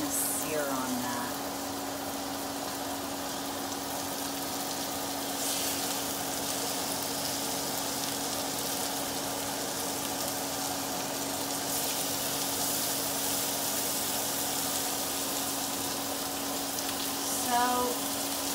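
Ahi tuna steaks, very cold from sitting on ice, sear in a hot pan with a steady, even sizzle held throughout, accompanied by a constant low hum in the background and a brief voice near the start and end.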